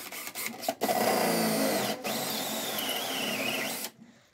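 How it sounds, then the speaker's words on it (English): A power drill with a hole saw whines steadily, cutting a 4-inch hole through a wooden ceiling overhead, loud and close, with a brief pause before it continues and then stops. "now I'm at the other end of that joist space, drilling a second 4-inch hole."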